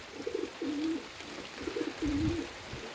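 Rain-soaked pigeons at a loft give two clear rounds of low rolling coos, each a short burst and then a drawn-out purr, near and distinct over a faint patter of rain.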